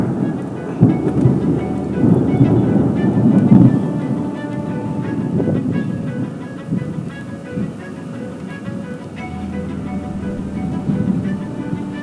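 Thunder from a supercell storm near Dijon, France, rolls as a long, low, steady rumble with a few sharper cracks and a hiss of rain throughout.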